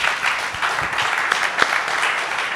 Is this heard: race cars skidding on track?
no